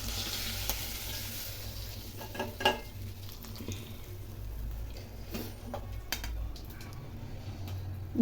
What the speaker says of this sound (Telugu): ఫిష్ ఫ్రై అయితే రెడీ అయిపోయినాయి ఆల్మోస్ట్.